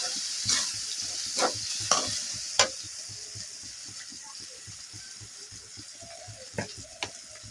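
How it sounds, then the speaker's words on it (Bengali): Fish sautéing with home-ground spices in a hot pan, a steady sizzle under rhythmic stirring scrapes and a few sharp spoon knocks, close and alone. "তাই আমি এভাবেই মাছের সাথে কষিয়ে নিলেই হবে"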